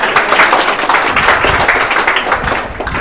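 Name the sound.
class clapping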